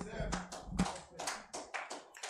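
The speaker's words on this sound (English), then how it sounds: "Clap your hands, no man." A few congregation members clapping hands during a church lesson, sparse uneven claps heard close amid murmuring voices.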